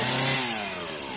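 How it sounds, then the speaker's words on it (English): A chainsaw trims trees in early-morning back woods in Maine, its engine whining loudly and close, the pitch sliding gradually lower over a single short stretch. "Early morning tree trimming."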